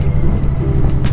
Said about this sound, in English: There goes somebody's bikes right there.